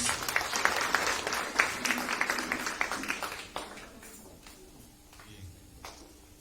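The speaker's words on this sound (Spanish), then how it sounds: "Así que con un fuerte aplauso otra vez lo recibimos." Loud applause rises from a church congregation during a service in Peru, then thins out to scattered claps and quiet room sound after a few seconds.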